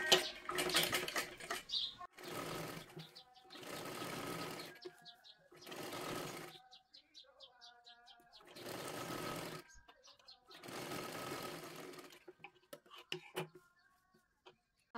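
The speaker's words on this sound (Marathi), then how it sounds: "पूर्ण खालच्या बाजूला शिलाई मारून घ्या" Sewing machine stitching along the bottom edge of a blouse lining, a princess-cut three-piece blouse, in repeated bursts of rapid needle whirring, each about one to two seconds long, separated by short pauses filled with fabric handling and small clicks.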